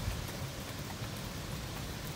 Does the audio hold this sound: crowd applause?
no